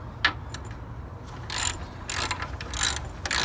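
Ratchet wrench loosening 13mm bolts on a Jeep JK spare tire carrier: quick bursts of close metallic clicking in short strokes, a single tick followed by several rapid ratcheting runs, with no voices.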